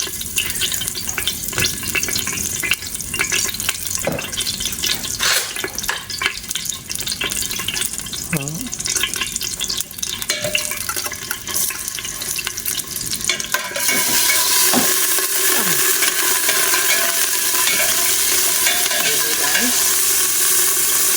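Butter melts and fries in a pan while cooking macaroni soup, a continuous crackling sizzle with occasional stirring scrapes that grows louder and brighter partway through.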